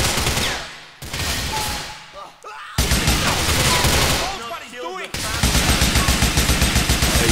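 AK rifle fire in the video game GTA IV: loud, close bursts of rapid automatic shots that stop briefly and start again, becoming a steady rattling stream by the end.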